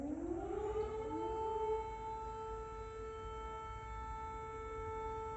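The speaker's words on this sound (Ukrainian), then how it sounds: "Спочатку хотів видалити звук сирени" A civil defense air raid siren wails in the distance, its tone rising at the start and then holding a steady, sustained pitch with no voices present.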